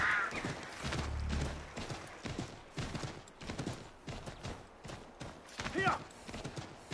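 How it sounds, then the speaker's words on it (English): A horse in the video game Assassin's Creed III gallops in rapid rhythmic hoofbeats, mixed with bursts of gunfire and game sound effects. "I'm aware that sprinting a horse will deplete its stamina."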